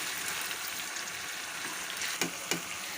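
Chicken sizzling steadily in oil in a karahi, a dense close hiss throughout with two short clatters of stirring near the end.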